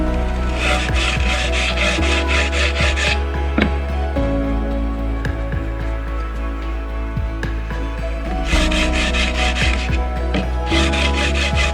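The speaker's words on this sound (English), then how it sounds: "So we're going to go ahead and do another sanding of this stuff and get that knocked down." Sanding a Richlite fretboard to a 14-inch radius: loud, close, continuous rhythmic rasping strokes, with brief pauses and shifts in the scrubbing pattern.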